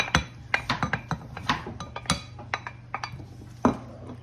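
Chopped giblets, neck meat, gizzards and liver, being added back into a pot of gravy, with a run of light clinks and clatters of utensil against cookware over a steady low hum, no talking.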